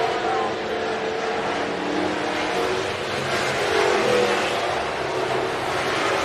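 An IMCA Hobby Stock race car, the neon orange 96R, roars around a dirt track at Estevan Motor Speedway in the final corners, its engine holding a steady, loud, rough drone throughout with crowd-like noise beneath.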